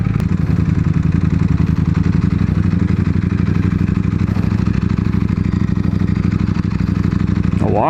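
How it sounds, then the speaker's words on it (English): Naked bike motorcycle, likely near a V4 rider, with a steady engine drone throughout, low rumble with clattering mechanical texture, nearby and continuous, no clear speech. "A motorcycle, naked bike."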